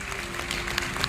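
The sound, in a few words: audience applause at Hanuman katha event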